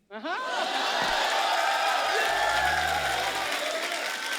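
A studio audience at a comedy show welcomes the guests with loud, sustained applause and cheering. The clapping starts abruptly and holds full for over four seconds while a voice talks briefly underneath.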